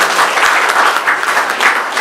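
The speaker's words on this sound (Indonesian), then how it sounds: "Tepuk tangan buat Tuhan Yesus." A church congregation applauds during a Sunday worship service, with steady, dense clapping from a crowd filling the whole moment at close range.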